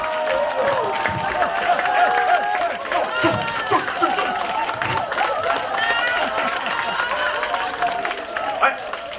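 A crowd at a village event for elderly residents claps and cheers loudly and continuously, with chatter and voices mixed into the steady applause.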